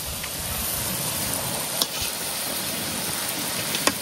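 Fuljhuri pitha, also called jamai pitha, frying in hot oil: a steady, close, dense sizzle and crackle that carries on unbroken, with a couple of faint sharp pops and no talking.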